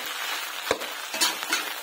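Quiet hiss of spices sizzling in hot oil for a tadka tempering, cooked outdoors in a forest, with a few brief crackling pops and spatters spaced through the short clip.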